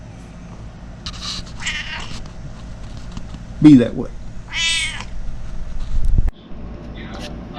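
A cat meows several times close up, drawn-out and wavering cries with a sharper yowl midway, between stretches of a person talking in a kitchen.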